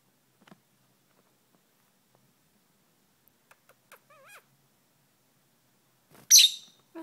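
Pet birds at home give a few sparse, soft chirps and tweets against near silence, ending with a sudden louder, harsher burst of calls.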